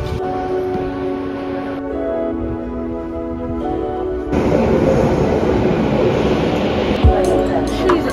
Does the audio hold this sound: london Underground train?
yes